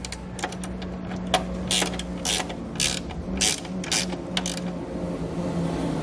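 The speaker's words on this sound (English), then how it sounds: "really just with a wrench like this, once it kind of stops, give it a little extra" A wrench tightens a bolt while setting up an EcoHitch hidden trailer hitch receiver, producing a close series of sharp ratcheting clicks in an uneven rhythm over a low steady hum.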